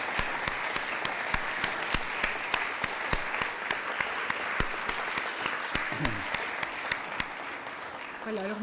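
Steady applause fills a French hemicycle after a session on youth mental health, honoring the director and young speakers, with sharp individual claps over a continuous crowd bed and a voice briefly near the end.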